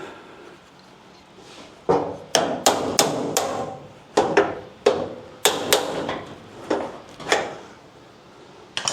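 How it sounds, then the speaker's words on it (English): Hammer blows on a chisel bending back the bent end of a brace on a classic car floor, about a dozen sharp metallic strikes in uneven bursts over a quiet shop background. "The end of this is bent out a bit, so I need to bend that back in with a chisel."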